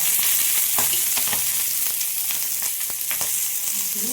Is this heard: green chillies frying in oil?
yes